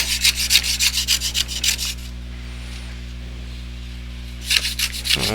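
A carving tool rasps and tears through wood in quick rhythmic strokes, pauses in near quiet, then resumes scraping close to the listener.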